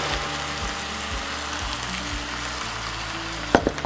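Fresh spinach sautéing in a hot pan, a steady close sizzle and crackle of leaves frying, with a few low clicks and a short sharp clatter near the end.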